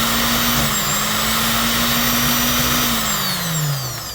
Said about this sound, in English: what I'm doing is just zigzagging the edges because this fabric frays a lot